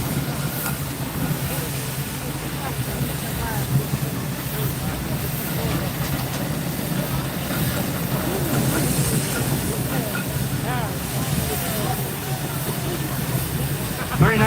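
A 1909 Fowler 7 nominal horsepower steam traction engine rolls past in an anniversary steam rally parade, a steady rumbling chug and hiss with crowd murmur and a commentator speaking over the loud, continuous engine noise.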